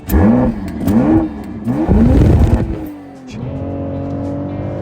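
A BMW X3 M50 engine revs hard through several quick upshifts, each pull rising in pitch then dropping as the next gear engages, loud and close from inside the cabin, before settling into a steady lower cruising drone with no talking.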